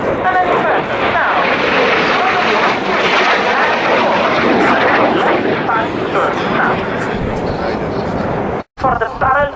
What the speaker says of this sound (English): we have counted 9 aircraft